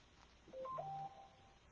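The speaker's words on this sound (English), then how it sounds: "my phone is going off" A phone chimes with a short sequence of quiet electronic notification tones, a few quick beeps over faint background hiss in a home craft setting.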